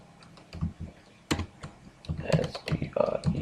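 Typing C++ code on a computer keyboard, a quick irregular run of close key clicks and taps that grows denser toward the end, with no talking over it.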